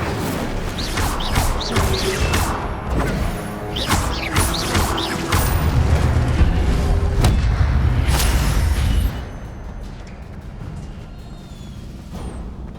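Fire spell effects in a wizarding video game: a dense roaring, crashing barrage of bursts and booms, loud and continuous for several seconds before dropping to a lower rumbling background.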